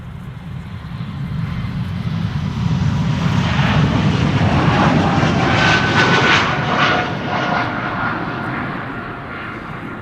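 A fixed-wing airliner engine roars past at Amsterdam Schiphol Airport during crosswind departures and arrivals, a loud broad rumble that swells and peaks mid-clip before easing slightly, with no voices over it.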